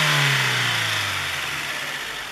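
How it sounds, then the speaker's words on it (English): A worn 1998 Acura Integra LS four-door with an aftermarket intake and tired rings and pistons gives a single rev; the engine rises to a loud, raspy pitch, then drops steadily back toward idle. "Let's give it a rev."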